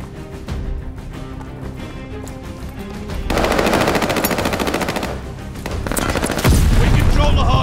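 Gunfire in the video game Call of Duty Vanguard rattles in loud bursts, rising into sustained machine-gun fire with booming impacts, while in-game voice callouts are heard.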